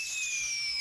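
A fireworks sound effect, a single continuous bright hissing whistle lasting under a second and ending in the onset of a burst.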